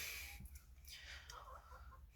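Faint, soft clucking from hens in a freshly cleaned coop amid a steady low hum and background noise, with occasional brief calls.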